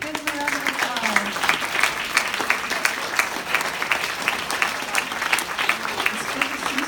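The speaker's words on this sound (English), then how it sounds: "Give them a round of applause." An audience applauds Legacy Circle members at an AAUW California Fund gathering at Crow Canyon, with steady, dense clapping that holds for several seconds and a voice briefly heard over the start.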